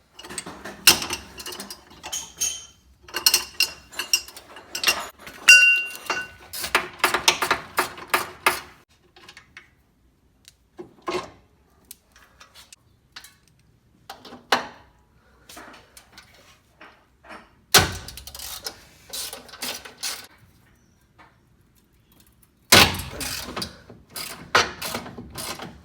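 Car engine motor mounts being removed by hand tools from a Mazda RX8 being fitted with an LS 5.3 engine, with bursts of ratcheting clicks, metallic clinks and scrapes separated by quiet pauses.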